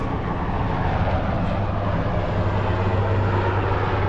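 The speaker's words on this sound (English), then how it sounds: "Now we're getting to the helicopters." A steady, loud mechanical roar of helicopters in an air parade over Madrid, with a low droning hum running continuously throughout.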